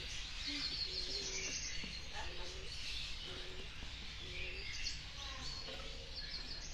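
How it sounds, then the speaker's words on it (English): Emerald dove, also called green-winged pigeon, giving soft low cooing notes repeated at a steady pace, faint under broad background hiss and other distant bird chirps. "So this is the emerald dove or green-winged pigeon."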